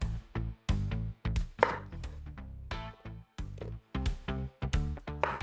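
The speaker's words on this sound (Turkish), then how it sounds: "Şimdi ben soğanımı doğramaya geçeceğim." Knife chops through an onion on a board in quick, sharp, steady strokes, close and loud, with no voices.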